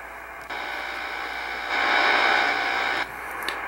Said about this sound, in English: As you see here, I have a lot of noise on this band.